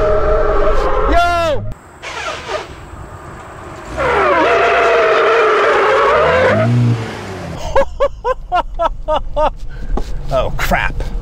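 A manual-transmission car revs hard, then is forced into reverse while moving, giving engine roars, tire squeals and skids, followed by a loud surging rev and sharp mechanical clatter, with people talking over it.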